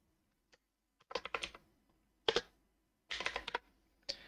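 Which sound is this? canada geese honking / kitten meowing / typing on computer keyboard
typing on computer keyboard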